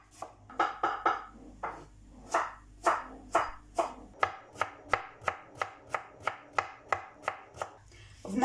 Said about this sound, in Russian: Я беру килограмм капусты и нарежу меленько соломки.